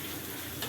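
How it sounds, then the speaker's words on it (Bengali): Egg sizzling in a frying pan over onions that have already been fried, part of making egg chicken chow mein; a brief, steady, close hiss with a slight swell at the end. "পেঁয়াজ ভাজা শেষ, এখন ডিম দিয়ে দিচ্ছে।"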